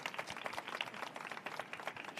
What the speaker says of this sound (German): Erstmal Applaus für Ellen.